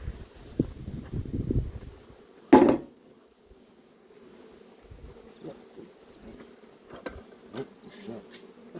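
Honey bees buzz around an open beehive, a low, steady drone heard close by, broken by a loud clunk and a few knocks.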